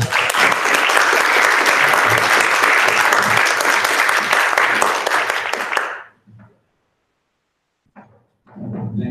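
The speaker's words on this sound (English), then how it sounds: "So please give me a warm welcome applause from Ted" An audience at an astronomy society monthly meeting applauds loudly and steadily for about six seconds, then the clapping cuts off into near silence before a voice begins speaking.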